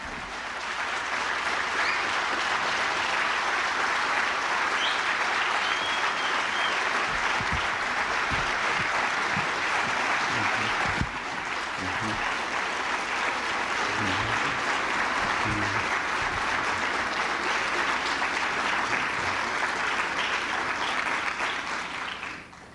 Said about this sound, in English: giving a round of applause for our scholar